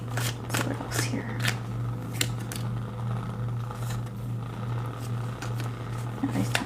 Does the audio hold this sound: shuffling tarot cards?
yes